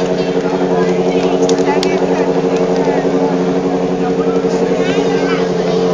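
A stunt motorcycle engine runs and revs steadily at a motorbike and rally show in Ercsi, holding a continuous loud drone under a busy outdoor crowd.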